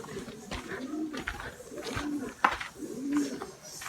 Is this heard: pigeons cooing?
yes